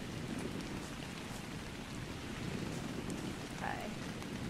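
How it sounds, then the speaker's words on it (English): Steady rain falls in the survival video game Ark, a continuous hiss of drops hitting surfaces at an even level, with a faint voice briefly over it near the end. "It's still getting raining."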